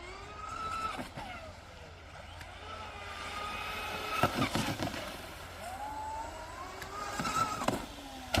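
Proboat Recoil RC boat buzzing across the water, its small motor whining up and down in repeated bursts and sweeps, moderately close, with a few sharp splashes and knocks.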